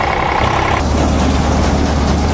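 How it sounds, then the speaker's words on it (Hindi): A tractor engine harvesting paddy rumbles loudly and close, its tone shifting partway through as it speeds up into a steady, heavy drone. "साला ट्रैक्टर की स्पीड बहुत स्लो है, पहिरे में धान जा रहे होंगे। थोड़ा सी स्पीड बढ़ाता हूँ।"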